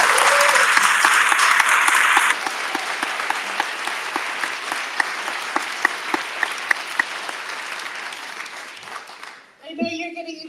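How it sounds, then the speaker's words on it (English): Audience applause after a lecture by a visiting academic in Detroit, a broad sustained wash of clapping that thins to scattered claps over about nine seconds before a voice begins speaking. "Folks, let's have one more round of applause for Dr."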